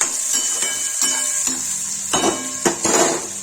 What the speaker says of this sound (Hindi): सब्जी चला देंगे